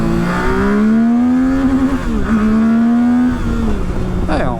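A Zontes 703 F adventure-touring motorcycle engine revs up past 10,000 rpm, its loud buzzing note climbing, dipping at a gear change, then rising again before easing off, heard close under wind.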